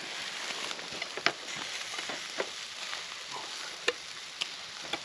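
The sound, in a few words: food sizzling while cooking at a woodland camp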